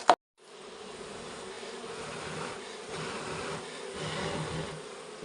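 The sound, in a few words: honey bees buzzing at an opened beehive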